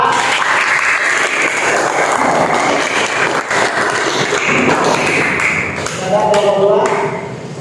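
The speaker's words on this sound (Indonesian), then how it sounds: "Tepuk tangan kelompok 2." Classroom applause during an Islamic studies lesson, a steady clatter of many hands clapping close by for nearly the whole stretch, with some voices mixed in toward the end.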